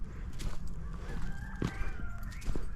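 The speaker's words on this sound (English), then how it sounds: "There's the chickens roosting." Chickens roosting outdoors on a winter farm, with soft clucks and calls scattered over steady ambient noise and other birds nearby.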